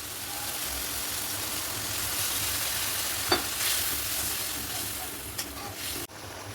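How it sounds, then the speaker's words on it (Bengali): Poppy seed paste frying in a pan for ruhi posto gravy, with water poured in to make the sauce: a steady close sizzle and hiss runs throughout, a few brief clatters of stirring, then it quiets abruptly near the end. "এবার আমি গ্রেভি করার জন্য অল্প একটু জল দিয়ে দেবো"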